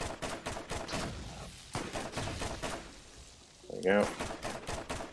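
Combat rifle from Borderlands firing in rapid, loud bursts across the clip, with a pause near the middle and a short spoken remark toward the end.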